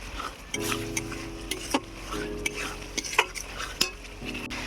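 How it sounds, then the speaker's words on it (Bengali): Spiced masala with green peas and chopped coriander is stir-fried in a pan for a fish curry, giving spatula scrapes and clinks over a steady low sizzle, with sharp metallic taps at irregular intervals. "মশলাটাকে এবার আমি ভালো করে কষি নেব"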